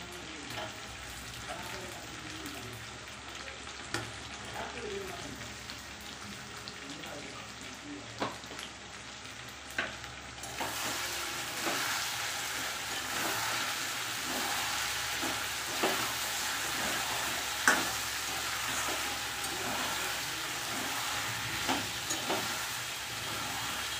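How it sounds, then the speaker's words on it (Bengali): Chicken pieces for a Bengali chicken kosha fry in a pan with tomato while being slowly stirred, giving a loud continuous sizzle broken by repeated scraping strokes that intensify partway through, with no speech. "এইভাবে আস্তে আস্তে নাড়িয়ে নাড়িয়ে ভালো করে মাংসটাকে কষাবো।"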